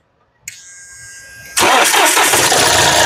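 A 2016 Mahindra TUV 300 T8 starting on a single crank: a brief starter-motor whir, then the engine catches and settles into a loud, steady idle close by.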